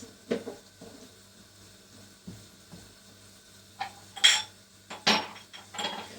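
Dishes and pots clatter and clink nearby in a few separate bursts, with a low steady hum underneath and no talking.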